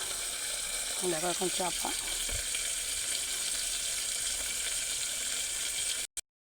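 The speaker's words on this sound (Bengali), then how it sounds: "এবার আলুটাকে ভাজছি কালো জিরে আর লঙ্কা দিয়ে" Potatoes frying in hot oil with black cumin and chilli in a home kitchen, giving a steady loud sizzle throughout, briefly under someone speaking, then a single thump near the middle.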